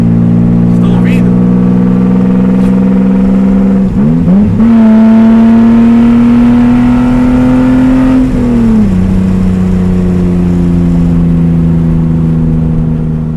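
A BMW E36 engine with an RR exhaust muffler, heard from inside the car, drones steadily at a loud idle, then revs up sharply, holds at higher speed and drops back down.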